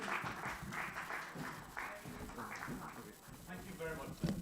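An audience applauds after a speech at a NAFDAC event, a steady clatter of clapping that runs throughout with voices talking over it.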